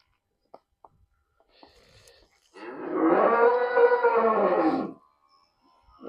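A heifer gives one long, loud moo lasting about two seconds, preceded by a few faint clicks and quiet background rustling.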